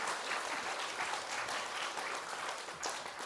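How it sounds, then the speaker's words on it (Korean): Church congregation applauding together, a steady wash of many hands clapping that fills the space evenly for a few seconds, fairly quiet and distant, with no voices over it. "우리 하나님 앞에 영광의 박수 한번 돌리겠습니다"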